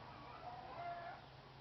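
A faint chicken call rises briefly over a low, steady background hum, distant and quiet.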